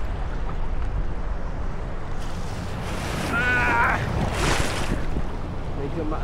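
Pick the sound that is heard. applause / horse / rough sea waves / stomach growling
rough sea waves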